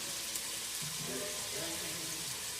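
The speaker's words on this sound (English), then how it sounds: "So you let it simmer a little bit" Tripe simmering in a pot with olive oil, giving a soft, steady bubbling sizzle at low level throughout, with faint voice-like murmurs beneath it.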